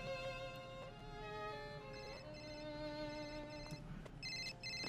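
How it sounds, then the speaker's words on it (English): A cell phone ringtone plays a bright, melodic sequence of electronic tones, faint but clear over a low background hum, repeating notes across five seconds. "Gotta answer the cell phone."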